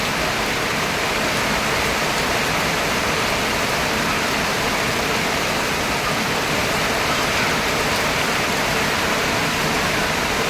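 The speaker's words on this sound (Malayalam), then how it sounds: "മഴ കുറയണ ലക്ഷണമൊന്നും കാണുന്നില്ല." Heavy rain falls in a steady, dense downpour with no pauses, loud and close throughout, and no voices.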